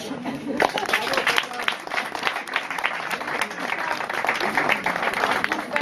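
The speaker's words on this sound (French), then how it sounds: "on l'applaudit" Audience at a 2012 Artenciel art exhibition opening claps steadily for several seconds, a dense wash of applause with voices mixed in underneath.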